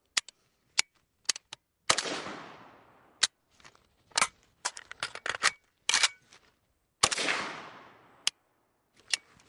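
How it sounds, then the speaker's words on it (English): An AK-pattern rifle fires a loud report that rings out and decays, followed by sharp metallic clicks of an empty chamber and magazine handling, repeated twice in an otherwise quiet outdoor setting. "what I want to get is a report and then the click"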